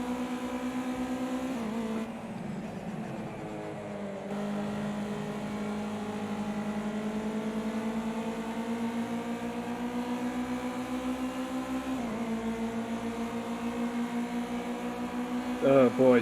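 A racing car engine in Project Cars 2 drones at steady high revs, dips briefly as it downshifts, then climbs again, with sharp rising revs near the end.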